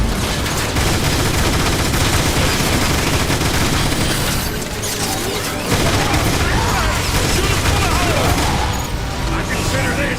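Gunfire in the game Transformers War For Cybertron hammers on in dense, loud bursts of automatic fire with booms and metallic clatter, briefly easing midway, while character voices shout over it.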